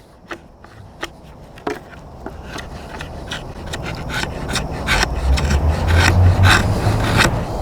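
A Schrade SCHF40LD fixed blade knife shaves feather sticks from firewood, with close scraping and rasping strokes plus a few sharp ticks, growing steadily louder over several seconds.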